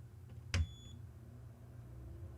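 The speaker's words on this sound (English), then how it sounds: "He's beeped at me." An NEC Ready 9625 desktop computer gives one short, clear beep at power-on, standing out briefly over a steady low electrical hum.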